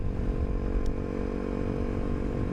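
A Honda CRF250L motorcycle with a Yoshimura spark arrestor exhaust idles with a deep, steady, throaty rumble close by, loud and unbroken.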